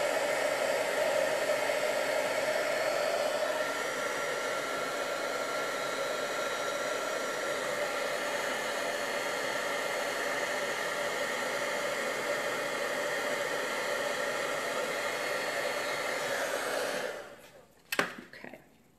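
A hair dryer blows steadily to dry milk paint, a loud constant whooshing hum that cuts off near the end, followed by a couple of brief handling sounds.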